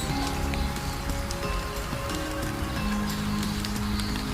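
Steady rain patters across surfaces at a pine forest campsite in the Puncak highlands near Bogor, a dense, even hiss with scattered closer drops, continuous throughout with no voices.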